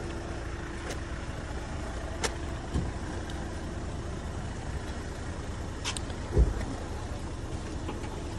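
A Hyundai Creta car engine idles quietly and steadily at a distance, a low even drone broken by a few faint clicks and one soft thump near the end.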